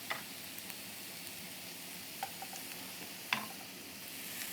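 Port sauce caramelizing in a pan while making a Rossini-style beef dish, giving a steady, soft sizzle and bubbling hiss with a few faint clicks and taps of a utensil against the pan.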